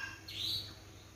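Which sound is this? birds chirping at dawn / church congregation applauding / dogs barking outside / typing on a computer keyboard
birds chirping at dawn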